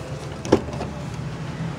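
A 2015 Jeep Wrangler Unlimited Sahara hardtop's power window motor whirs briefly with a soft click, close and fairly loud inside the cabin, then steady quiet interior noise.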